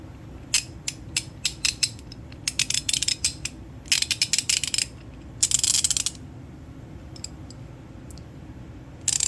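A DURATECH 90-tooth ratchet being worked by hand in quick bursts of dense, sharp mechanical clicking, close and loud, with short pauses between runs of pawl clicks and no talk.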